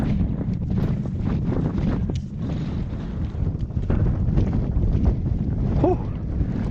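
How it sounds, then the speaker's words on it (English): Strong wind buffets the microphone at the summit of Beinn Bhreac, a mountain top, roaring in a continuous, gusty, low rumble, loud and close, with no talking. "It's a bit breezy, as you can probably tell"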